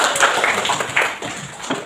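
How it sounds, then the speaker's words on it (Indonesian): A fourth-grade class claps for a student, with a short burst of uneven hand claps, a few sharper individual claps standing out, and faint voices underneath. "Tepuk tangan untuk dia."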